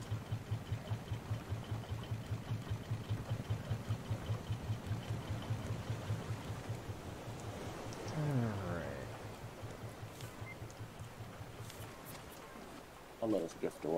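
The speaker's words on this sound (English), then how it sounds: "I was right next to that engine when that kicked on." A raft engine in the game Raft kicks on and runs with a steady, rapid chugging pulse, close and continuous, then a sweeping swell rises and fades as it keeps idling on.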